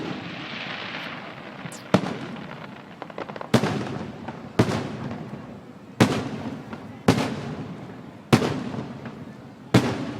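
Fireworks explode over Hanoi: a hissing crackle opens, then about seven loud, sharp bangs follow at irregular intervals, each fading into a rolling echo against a continuous background hum.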